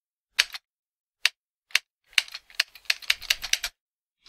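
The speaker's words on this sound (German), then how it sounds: "Man hört die Maus klicken, ne?" A computer mouse gives sharp, close clicks: a few spaced single clicks, then a rapid burst of clicks near the end, in a quiet room.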